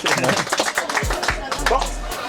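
At a rap battle event, a crowd claps for a contestant in short scattered bursts, mixed with chatter, voices and deep bass thumps.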